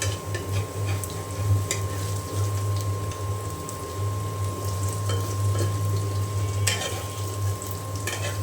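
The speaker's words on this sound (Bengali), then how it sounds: "এখন আমি এই পাশে খুব ভালো করে ভেজে নেব" Masoor dal fritters fry in hot oil in a pan with a steady, close crackling sizzle, a low hum running underneath and a few faint clicks scattered throughout.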